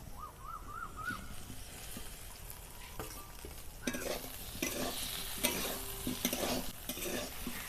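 Okra and potatoes are stir-fried with salt and ground roasted spices in a pan. Scraping stirs and a soft sizzle build into frequent rhythmic strokes. An owl-like hoot sounds faintly in the background early on.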